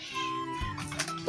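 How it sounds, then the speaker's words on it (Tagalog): A cat meows close by during a snack-eating session, one drawn-out cry that rises and then breaks into a second call, with no talk. "Ingay ng pusa!"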